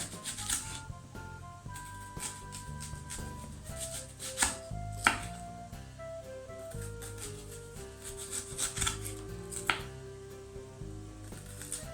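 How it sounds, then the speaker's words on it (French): An onion being sliced into thin rings with a knife on a cutting board, a run of crisp, irregular cuts and taps heard up close and alone. "Je vais couper mon oignon en rondelles, assez fines."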